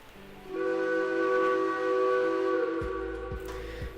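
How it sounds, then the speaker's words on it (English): A steam locomotive whistle on the S282 in the Derail Valley train simulator sounds a steady, multi-chime tone for about two and a half seconds, then drops away to low mechanical thuds. "let's hear what this whistle sounds like"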